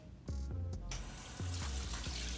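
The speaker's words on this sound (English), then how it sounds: "And then we're going to turn the water back on." Tap water runs steadily into a sink during surgical-style hand washing up to the elbows, a continuous close splashing rush that starts abruptly after a brief pause, with a few low knocks or thumps underneath.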